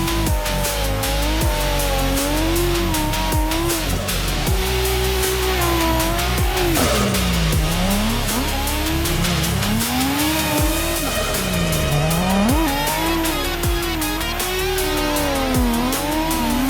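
A car drifts with its engine revving hard and its tires squealing loudly and almost without a break. The squeal wavers up and down in pitch as the car slides through the corners.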